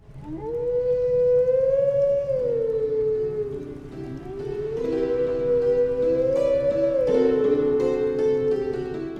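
The Howling Stone in the Lost Woods of the video game Twilight Princess plays a melody, a loud, sustained wailing wind-like tone that rises and falls through the melody over a soft musical backing.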